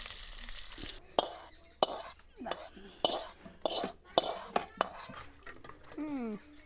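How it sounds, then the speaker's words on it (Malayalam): Mustard seeds, garlic and dried chilies frying in hot oil, heard as bursts of crackling sizzle and clattering pan and utensil knocks, close and fairly faint between them, with a brief voice near the end. "എണ്ണ ഒഴിച്ചു കൊടുത്തു കടുക് ഇട്ട് കൊടുത്തു കേട്ടോ വെളുത്തുള്ളി ഉണക്കമുളകും ഇട്ട് കൊടുക്കുന്നുണ്ട് കേട്ടോ"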